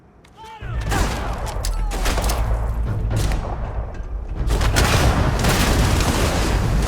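Gunfire and explosions from a firefight in the video game Starfield: rapid shots and heavy booms crowd together in a dense, loud, continuous barrage over a deep rumble, with game voices shouting in the mix.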